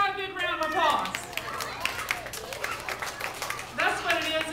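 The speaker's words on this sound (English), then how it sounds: "Give this guy a big round of applause." A children's audience on a farm bursts into clapping and excited shouts for a presenter who served seasoned veggies. The applause is framed by adult speech just before and after.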